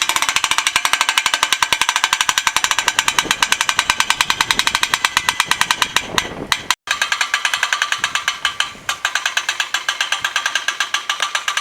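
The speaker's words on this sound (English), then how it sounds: "Bill is going to begin to raise the mast by cranking the trailer winch." A hand-cranked trailer winch ratchets quickly and steadily as it raises a sailboat mast, a loud continuous stream of metallic clicks with one brief pause midway.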